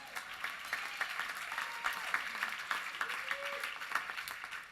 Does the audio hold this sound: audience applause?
yes